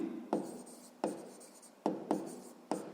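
Pen or pencil strokes on paper while writing out a sixth-grade math solution by hand: five distinct scratchy bursts of writing, close and clear, separated by short pauses, with no talking.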